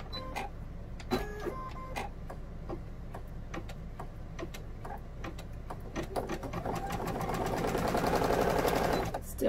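An embroidery machine runs without stitching because its bobbin has slipped out of tension, giving a rapid series of sharp mechanical ticks and clatters that swell into a denser, louder whirring toward the end.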